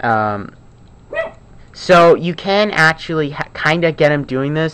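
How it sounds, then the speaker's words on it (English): Pet dogs barking indoors on a rainy day, frightened by thunder; a few short yips and barks come through under a man's near, continuous talking about a toy. "I apologize for my dogs barking"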